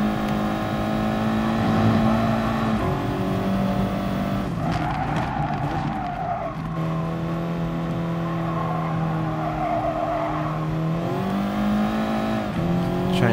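Race car engine roaring and rising in pitch through the gears in the GT Sport video game, a loud continuous drone with shifts and tire squeal as the car powers out of a corner.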